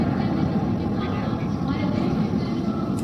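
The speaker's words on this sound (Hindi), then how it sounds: "4 तेजस विमान डायमंड फॉर्मेशन के अंदर।" Four Tejas fighter jets in diamond formation pass over a Republic Day parade, a steady loud roar of engine noise filling the air, with a commentator's voice blended in.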